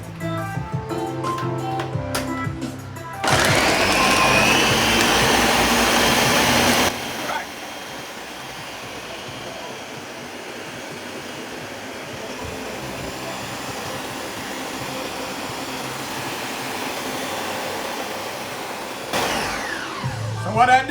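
A blender whirs through a thick oat drink with Lasco creamy malt, a loud steady motor roar that starts abruptly, holds for a few seconds and then drops to a lower, duller running hum.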